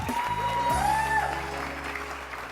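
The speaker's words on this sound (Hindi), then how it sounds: "एनजी मार्शल के लिए बहुत सारी तालियां।" A television studio crowd claps continuously for a contestant on a wedding-themed show, the even clatter running the whole stretch over a bed of loud stage music.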